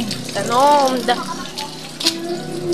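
Water is poured out to drink during a home lunch of squid in black soup, a short splashing gush heard up close beneath a voice.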